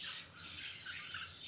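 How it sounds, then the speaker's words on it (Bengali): Budgerigars in a breeding colony give faint, continuous high chirps and squawks from a short distance. "পাখি"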